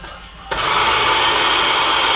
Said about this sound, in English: But right into the blender.